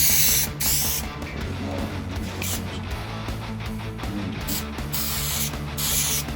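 Repeated hissing bursts of contact adhesive sprayed from a can onto a campervan panel, several short blasts in an uneven rhythm, close by, over a low mechanical background.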